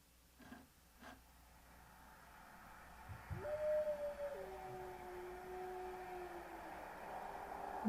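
A recorded wolf howl rises midway as a long, sustained, wavering tone that slowly falls, over a low rumble of traffic. Two soft bumps come at the start, and the whole recording is faint.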